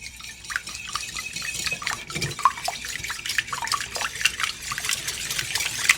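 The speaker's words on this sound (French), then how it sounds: "À l'aide d'un fouet, on va les mélanger." A whisk beats eggs in a bowl with a quick, wet, rhythmic clatter that runs throughout, close and fairly loud, with no speech.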